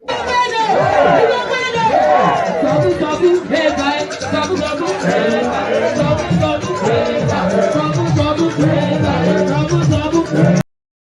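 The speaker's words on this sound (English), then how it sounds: "So listen to what the crowd are chanting here." Crowd at a political rally in Osun State, many voices chanting and shouting together in loud, continuous waves, with overlapping chatter close by, ending abruptly.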